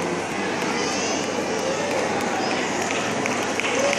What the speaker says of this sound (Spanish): Fuerte los aplausos para este grupo de apoyo civil a la policía